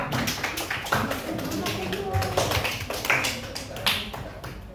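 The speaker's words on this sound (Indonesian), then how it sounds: "Kita berikan aplaus untuk kelompok 5" Applause for a student group in a classroom, scattered claps and taps running through the whole stretch at moderate loudness, mixed with voices and chatter.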